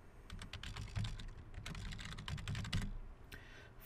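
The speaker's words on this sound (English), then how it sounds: "So the first thing we're going to type in here is our email address." An email address being entered on a computer keyboard: fast, close, irregular clicking of keys in quick runs with short pauses, fairly quiet overall.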